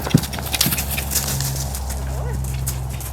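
Horse cantering on the lunge in full tack with ropes on the stirrups, rhythmic hoofbeats thudding under a steady low hum, with a brief faint whinny-like tone.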